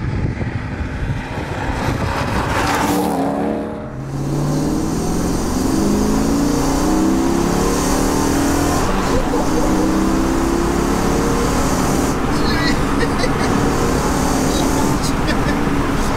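A 400 bhp Mercedes C43 AMG track car with a swapped 5.5 engine roars loud and raw, a brief dip and then a sustained hard-revving drone with rising and falling pitch sweeps.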